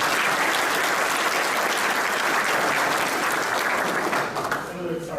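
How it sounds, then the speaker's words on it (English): Full, loud applause from an assembled audience at a military NCO academy graduation, a thick continuous roar of clapping that tapers off in the last second as a voice begins. "Can we give them one more round of applause, please?"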